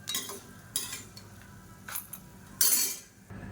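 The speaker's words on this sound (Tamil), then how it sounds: "இது எல்லாத்தையுமே வேறு பவுலுக்கு மாற்றிக்கலாம்." Spoon scraping and clinking against a bowl while roasted mint mixture for puthina thokku is transferred to another bowl, several short metallic scrapes and taps close by, with no talk.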